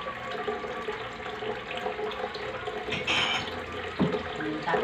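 Water runs from a kitchen tap while pork nilaga with cabbage is being cooked, a steady splashing stream at moderate volume with a brief clatter near the end.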